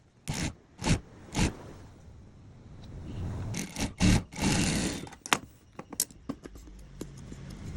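Sewing machine stitching around a gown neckline facing at a quarter inch, in short bursts and longer runs with scraping, handling noises and fabric being turned between stretches.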